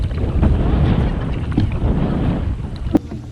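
Wind gusts buffet the microphone during a canoe trip on the Boundary Waters, a steady rushing roar with water sloshing against the boat and a couple of sharp knocks near the end.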